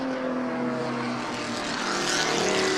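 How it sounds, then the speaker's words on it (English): Vintage race cars in Race Group 3 at the 2012 Spokane Festival of Speed roar past in a continuous wash of engine noise that swells gradually louder, with one car a silver Corvette. "I wish the play-by-play guy would just pipe down a little bit so I can hear the hum of those cars."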